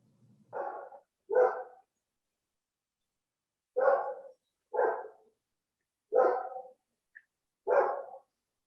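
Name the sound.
dog barking from a neighbour's house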